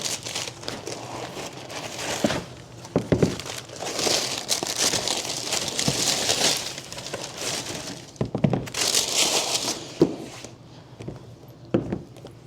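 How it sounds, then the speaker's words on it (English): Splattered-paint wrapping paper crinkles and rustles around a pair of Air Jordan 6 "Oreo" sneakers during an unboxing, steady close handling with a few sharper crackles and thumps. "They come wrapped in this paper, splattered paint paper."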